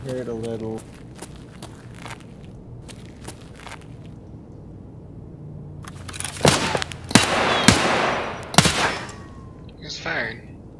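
Rapid bursts of automatic gunfire in Escape From Tarkov on the Factory map, with an HK rifle in play, crack out loud and close in clusters after a quieter stretch of footsteps, with players talking over it.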